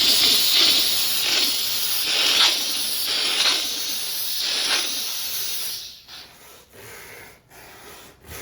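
A BISSELL SteamShot hard-surface steam cleaner blows steam while cleaning grout, making a series of close, loud hissing bursts that pulse for several seconds before tapering into quieter, broken puffs.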